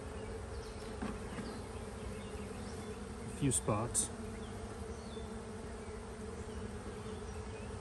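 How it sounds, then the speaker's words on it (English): Bees buzz around a backyard beehive, a soft, steady droning hum with a few louder passes nearby, as someone speaks briefly. "Bunch of bees down there."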